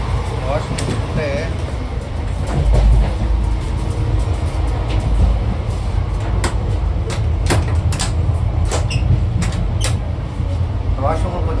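A Seven Hills SF Express passenger train on the Secunderabad to Tirupati route rumbles steadily on the rails, with a continuous low drone and scattered clicks from the coach, while a person talks throughout.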